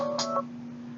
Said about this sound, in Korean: 방송 중에 전화가 와서